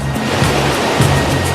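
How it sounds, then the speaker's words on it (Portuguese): Large waves crash and surge in a tropical storm with winds over 160 km/h, a loud, continuous roar of churning surf with repeated low swells. "Os ventos ultrapassam 160 km por hora e as ondas ficam com mais de 6 metros de altura."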